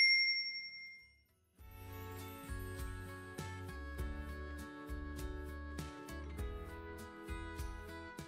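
A bright notification bell dings again and again in a quick, even rhythm after a short silence, clear and close over a soft plucked backing.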